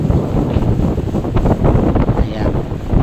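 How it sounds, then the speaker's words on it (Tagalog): Motorboat ride on a river in Samar, Philippines, with heavy wind buffeting the microphone over a loud, steady engine and water rush, close and continuous throughout. "Sasakay po kayo sa buti o bangka."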